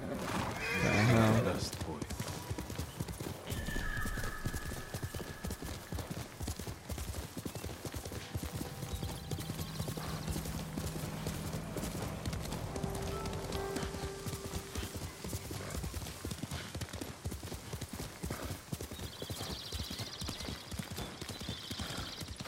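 Horse hooves clip-clop and a horse neighs in Ghost of Tsushima, a sharp whinny early on, then steady galloping hoofbeats with game ambience throughout, mostly without talk.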